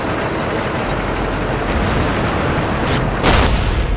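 A tank cannon fires in the World of Tanks video game: one loud, sharp blast near the end cuts through a constant dense rumble of engine and track noise.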